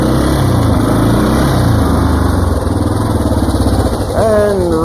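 A Yamaha Big Bear ATV engine drives loud and close, running a steady, buzzing drone. Near the end its pitch climbs quickly as it works through the gears.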